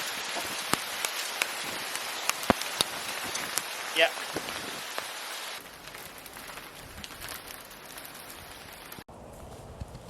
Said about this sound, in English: Oh my god, that rain was crazy. And hail.